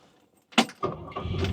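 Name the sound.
car engine starting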